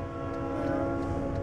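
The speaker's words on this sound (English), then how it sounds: "I heard a choo-choo train" A passing train sounds a sustained, droning horn over a steady rumble, close and loud, with no talk.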